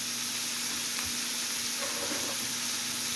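Garlic for a pork chow mein sizzles in a hot pan with a steady, close, bright hiss and a soft undertone of steam and stirring, continuous throughout, no voices.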